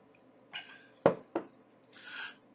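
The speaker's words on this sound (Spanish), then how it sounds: "Tomo un traguito de agua." A small sip of water, with a few soft, close mouth and swallowing sounds and a couple of sharp clicks in quiet surroundings, spaced irregularly over a couple of seconds.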